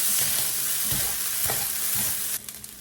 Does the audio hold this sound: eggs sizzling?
yes